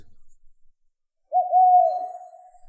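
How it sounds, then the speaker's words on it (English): A single owl-like hoot in an anime scene, rendered as a sustained mid-pitched coo that starts abruptly after near silence and holds steady for over a second, clear and fairly close with no one talking. "I was about to check my dashboard when I heard a bird hoot."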